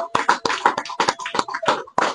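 A church congregation clapping during a sermon service, with close, distinct rhythmic claps in quick irregular bursts, fairly loud and with no voices over them.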